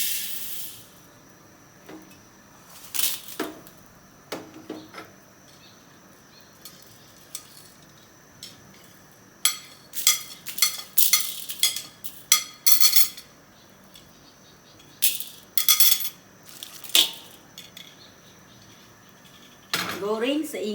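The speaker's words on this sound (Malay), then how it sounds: "kita perlu goreng semua bahan kering tadi tanpa minyak" Dry spices for tandoori chicken rattle and scrape in a pan, dry-fried without oil, with bursts of gritty stirring and clinks of a utensil against metal, separated by quieter pauses.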